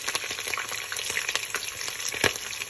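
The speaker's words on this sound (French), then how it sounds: "Quelques 5 minutes de friture de ma viande" Meat frying in a pan for a Burkina Faso chicken spaghetti dish with soumbala, a steady close crackle and sizzle with sharp pops and stirring, no voices.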